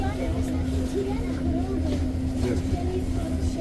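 A low, steady mechanical rumble fills an REM train interior on the Deux-Montagnes branch, continuous and droning, with a faint hum on top.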